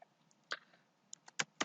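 Sparse computer keyboard keystrokes while a program is typed into Notepad, a few separate clicks and then a quicker cluster of taps, close and fairly quiet.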